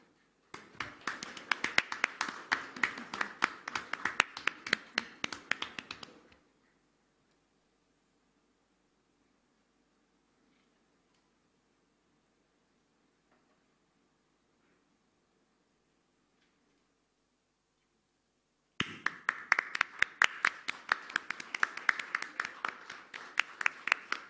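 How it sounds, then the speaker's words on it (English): An audience applauding to welcome the Chief Minister and dignitaries, dense clapping for several seconds, a long silent gap, then the clapping resumes, moderately distant. "Let's have a big round of applause."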